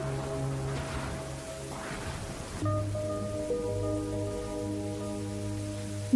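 Rain falling as a steady soft hiss of drops on surfaces, even and continuous at moderate level, with faint background tones and no talk.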